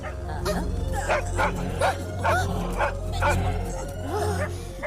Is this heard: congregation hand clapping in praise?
no